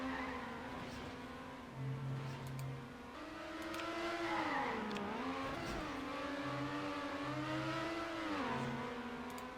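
Race car engine in the Trackmania Nations racing game: a steady, droning engine tone that rises and dips as the car speeds through turns, with brief tire skids, continuous and fairly loud throughout.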